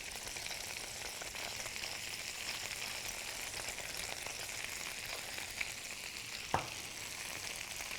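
Pork tenderloin seasoned with salt and cracked pepper, searing in a hot pan, giving a steady, even sizzle and crackle close up, with one brief clink near the end.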